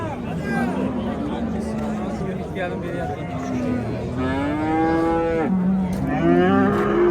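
Several cows moo loudly at a livestock market, long drawn-out calls overlapping one another, over a steady murmur of crowd chatter and market noise.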